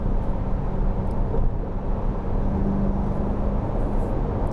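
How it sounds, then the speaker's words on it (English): Tire and road roar inside the cabin of a 2022 Chevrolet Corvette C8 Z51 cruising on smooth pavement, a loud, constant broadband hum with a faint steady drone beneath it, no talking. "you're getting a lot of interior cabin noise from the tires and just the what's coming through into the car"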